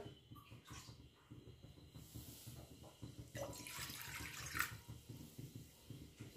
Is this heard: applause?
no